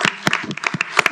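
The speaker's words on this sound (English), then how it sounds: "this deserves a big round of applause." A short, sparse burst of clapping from a few people at a school board meeting, with scattered individual claps rather than a full ovation.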